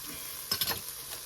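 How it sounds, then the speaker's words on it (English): Onions searing in a pot for white chicken chili, a soft steady sizzle with a few quick stirring scrapes in the middle, faint and brief. "Spread it out and let this sear down"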